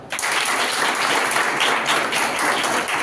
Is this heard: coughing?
no